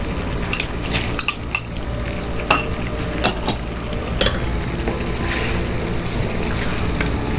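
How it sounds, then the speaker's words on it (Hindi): Chopped tomatoes go into a pan of frying garlic-ginger paste for an aloo gobi chicken curry, giving a steady close sizzle broken by sharp metal clinks of a spoon scraping and stirring against the pan. "लहसुन और अदरक का पेस्ट फ्राई हो चुका है। अब हम इसमें टमाटर डालेंगे।"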